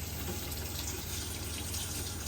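Pressurised water runs steadily from a motorhome tap with the pump switched on in an Elddis Autoquest 140, a continuous close, loud hiss of flow with no pauses.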